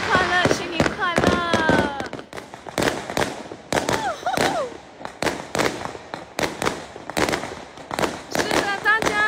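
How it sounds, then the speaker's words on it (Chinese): New Year fireworks burst repeatedly over Taitung on a cold, drizzly night, with sharp booms and crackles in quick succession, while excited voices shout and cheer between the explosions. "尽量让大家看到清楚的烟火"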